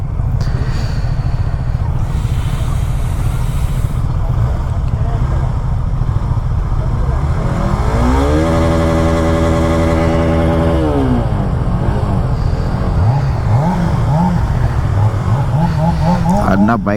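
Kawasaki 900 motorcycle engine running loud and close, a deep throbbing idle that climbs through a sustained rev in the middle before settling back, with voices speaking over it.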